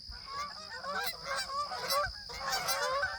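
Canada geese honk repeatedly over a set of goose decoys in an outdoor hunting spread, with several overlapping calls close by and a steady high whine in the background.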